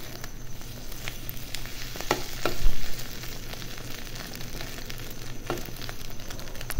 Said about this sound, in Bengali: ডিম একটু ভালো করে ভাজলে বেশি ভালো লাগে খাইতে।